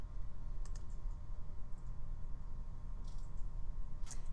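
Mouse clicks and keyboard typing at a computer while entering a spreadsheet formula, with a few sharp clicks in separate clusters over a steady low background hum, no talking.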